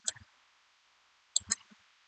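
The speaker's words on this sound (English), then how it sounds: "I keep hearing too much feedback from my mouse and my keyboard." Computer mouse and keyboard clicks come in two short, faint bursts of a few sharp clicks each, with a quiet gap between them, close to the microphone.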